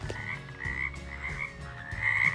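A frog croaks steadily in a continuous, throaty sound effect for a children's peek-a-boo animal book, loud and close with no talking over it.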